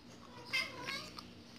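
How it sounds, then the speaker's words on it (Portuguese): A pet cat meows briefly in a room, two short, fairly quiet calls over a faint steady background hum, while a player explores a Minecraft build of the Simpsons' house. "É meu gato."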